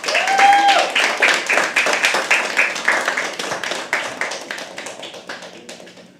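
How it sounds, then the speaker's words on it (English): Audience applause for a performer at a live poetry open mic, a crisp, loud burst of many hands clapping close by that gradually thins and fades, with a brief voice at the start. "Big round of applause for Harsh, guys."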